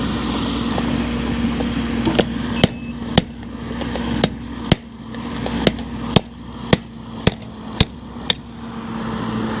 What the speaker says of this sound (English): Maybe the hammer's too big.